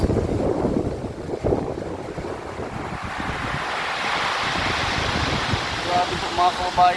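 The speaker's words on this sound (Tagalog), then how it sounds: "Grabe po mga kababayan, lakas ng dagat." Rough sea surf crashes and churns under strong gusting wind at a coastal spot as rain sets in. The roar is loud and continuous, buffeting the microphone, with the waves swelling toward the end.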